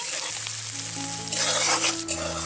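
Spices sizzling and frying in a pan for raw banana kofta curry, a steady loud hiss that swells partway through, with no voices.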